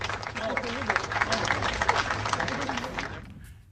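A crowd at a 2019 Canadian election campaign event applauds the Prime Minister with steady clapping and cheering voices mixed in, then cuts off abruptly at the end.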